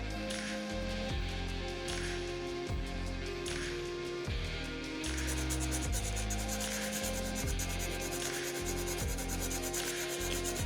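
Graphite pencil shading fruit on paper with light, superficial hatching: a steady, close rhythm of scratchy rubbing strokes repeating about every half second, with no voices.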